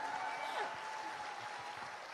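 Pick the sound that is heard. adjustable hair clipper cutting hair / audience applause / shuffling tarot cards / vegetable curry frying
audience applause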